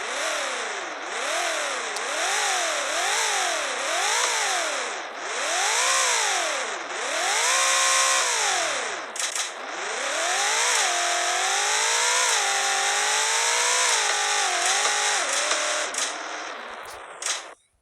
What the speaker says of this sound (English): It's got a lovely growl in the exhaust.